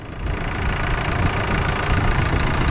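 An old motor engine runs steadily near a wheat field being sown, with a rough, knocking idle rumble that stays loud and continuous, no talking over it.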